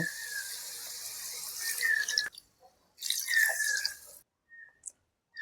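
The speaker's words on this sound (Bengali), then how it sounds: "এই 4 বাটি জল আমি দিয়ে দিলাম।" Water pours into a cooking pot in two bursts for vegetable pulao, a bright gurgling splash close by, with short pauses and small drips between.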